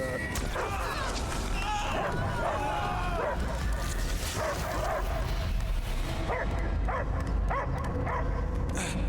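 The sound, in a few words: dog barking in a video game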